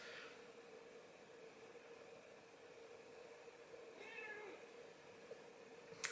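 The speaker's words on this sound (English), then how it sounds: "For any of you that heard that meow, that was our cat." A cat meows a few times at moderate distance over a steady background hiss, with a faint click near the end.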